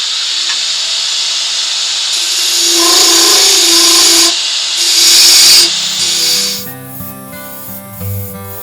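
A wood lathe spins an earring holder blank held in a chuck, giving a loud continuous hiss and whine as the tool cuts the wood, before the tone shifts near the end.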